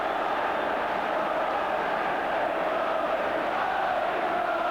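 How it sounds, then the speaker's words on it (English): A dense, sustained roar from a football crowd at Old Trafford during Manchester United v Liverpool, celebrating a goal, loud and steady throughout with no let-up. "just listen now to this Old Trafford crowd"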